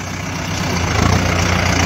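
A Mahindra Arjun 605 tractor engine runs in fifth gear, a loud, steady diesel drone with a low throbbing pulse that swells slightly partway through, close and alone without talk.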